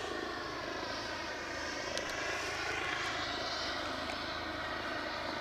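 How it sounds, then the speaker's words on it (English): A British Airways Airbus A319 jet on final approach into Aberdeen produces a steady, distant engine roar and whine that holds evenly throughout, with no talking. "British Airways A319, sadly not in BEA livery. That would have been spoiling us. Well into final approach."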